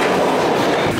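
New York City subway train running, a loud continuous rumbling roar with steady rattle close by, no voices.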